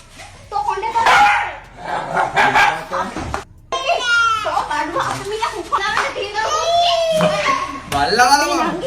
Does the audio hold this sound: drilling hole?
no